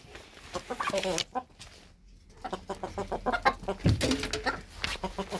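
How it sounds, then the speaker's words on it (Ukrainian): Hens clucking in a busy, irregular stream of short calls, fairly close, with a brief quiet gap partway through. "Не заважайте, кури."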